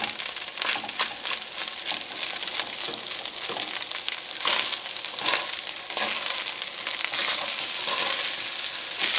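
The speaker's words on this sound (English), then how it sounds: "Listen to that sizzle," Fried rice sizzles loudly in a hot pan with seasoning, a steady bright hiss with scraping stirs and crackles throughout, close up and with no talking.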